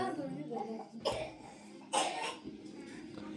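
A child coughs twice in quick succession, two short, sharp bursts close to the microphone, with indoor talk around them.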